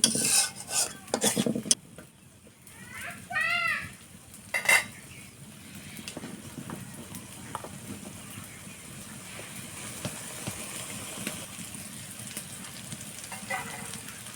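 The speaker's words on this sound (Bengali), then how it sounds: "সামান্য কিছু লবণ, লবণটাকে ভালোভাবে মিশিয়ে নেব" Dried tengra fish and salt are stirred in a metal pan. There are clattering scrapes and knocks early on, then a faint, soft sizzle continues with occasional light clinks.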